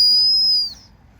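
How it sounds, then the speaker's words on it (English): A CyberWhistle, a small machined whistle worn as a necklace, gives one clean, piercing high tone that holds steady for about half a second, then fades quickly, loud and close with no talking. "What we've got here is the CyberWhistle on loan from channel fan Bob. We're going to see how beautiful it sounds."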